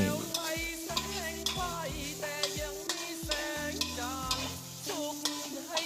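Field frog curry with sliced kaffir lime leaves being stir-fried, a background sizzle under rhythmic, repeated scraping and clanking of a spatula against the pan, close and regular, with music playing underneath.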